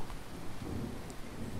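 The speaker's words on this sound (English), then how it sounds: "Oh God, the rain won't stop." Steady rain falls with low, rolling thunder in a continuous stormy wash, while a quiet voice narrates a horror story over it.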